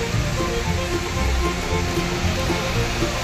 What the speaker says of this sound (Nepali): यस्तो पानी पर्दैछ सर्किट हाउसमा। हावा पनि चल्दैछ।